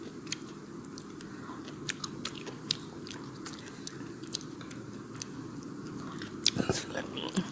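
Someone chews spicy food with peanuts close to the microphone, with soft, irregular crunches and bites, a few sharper crisp snaps, and faint background murmur.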